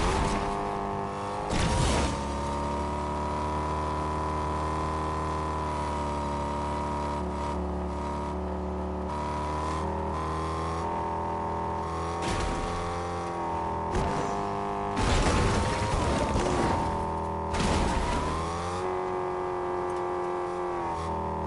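Car in Fortnite driving steadily with a sustained engine hum and layered harmonics, broken by several short bursts and clatters, moderately loud and alone throughout.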